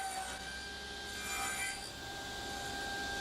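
A hand saw cuts a haunching on a wooden tenon, its back-and-forth rasping strokes close and steady, sawing over both sides alone with no talk.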